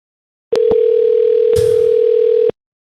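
A telephone call tone sounds as a single steady electronic tone, loud and close, lasting about two seconds before cutting off abruptly.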